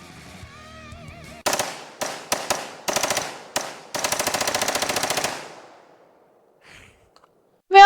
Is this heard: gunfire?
yes